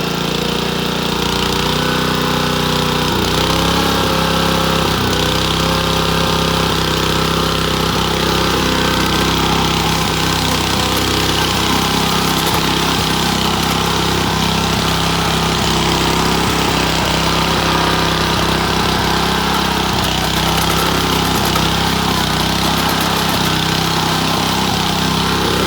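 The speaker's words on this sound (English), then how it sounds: "just warming the engine up, taking a bit of a spin, cutting some grass with the old blades" A Honda HRU216 lawn mower engine runs continuously while cutting grass on old blades, a loud, steady mechanical drone with slight fluctuations in pitch, close up and with no talking.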